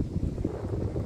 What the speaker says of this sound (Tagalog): Malamig na ang simoy ng hangin.